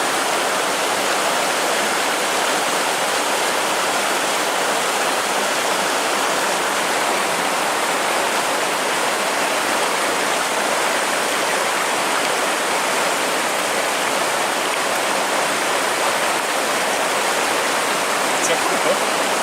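A mountain stream on a hike near Vallonpierre rushes in a steady, loud, broadband wash that stays constant throughout, with no talking audible over it.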